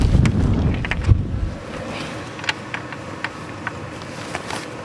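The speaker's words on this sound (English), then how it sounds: "as long as the wind doesn't every once in a while pick up again," Wind gusts buffet a small ice-fishing shack on a frozen Maine lake, a loud rumbling rush at first that drops to quieter background noise with scattered faint ticks and knocks.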